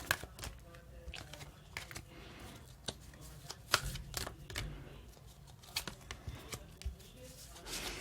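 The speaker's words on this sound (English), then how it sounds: "One more shuffle." Quiet, irregular papery riffling and soft slaps of tarot cards being shuffled by hand, close up, with brief pauses between bursts.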